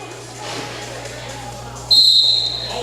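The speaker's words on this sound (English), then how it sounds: "There's the whistle." A referee's whistle starts a roller derby jam, one sharp, shrill blast that rises out of a low arena murmur near the end and then fades.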